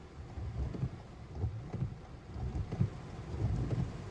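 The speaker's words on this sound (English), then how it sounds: "We in a tropical storm right now," Tropical storm rain and gusting wind in Miami Beach, a steady low rumbling wash of heavy rain with buffeting wind bursts, fairly quiet and continuous with no voices.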